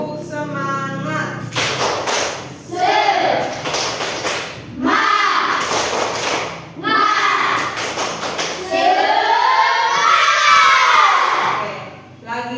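A class of primary school children stands and performs a clapping chant, sharp hand claps punctuating loud group shouting in several bursts, lively and close, with a teacher's voice leading at the start.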